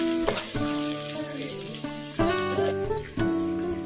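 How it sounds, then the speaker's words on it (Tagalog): Onion, garlic and ground chicken sauté in a pan for lumpia toge: a soft sizzle runs under a bright, sustained tonal ringing with several abrupt shifts, and nobody speaks. "Igisa lang natin mabuti ang bawang, sibuyas, pati na ang ground chicken."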